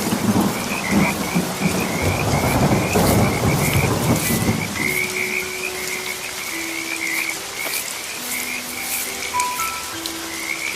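Heavy rain pouring over a flooded village at night, with rumbling thunder early on and frogs croaking in a continuous chorus, later joined by sustained tonal calls as the downpour keeps hissing throughout.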